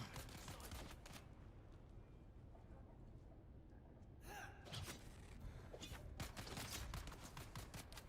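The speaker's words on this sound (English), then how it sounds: "Dude, stop shooting at me, please." Bursts of gunfire in the Dune video game, with a sharp volley around the middle and a denser run of shots toward the end over a steady low ambient rumble.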